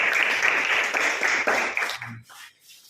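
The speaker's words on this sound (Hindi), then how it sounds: "ताली बजाओ सब लोग।" A class of students in a general knowledge quiz lesson claps hands together for about two seconds in a dense burst of applause, which then stops abruptly.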